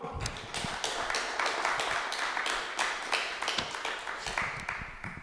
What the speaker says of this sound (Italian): Gli facciamo un applauso.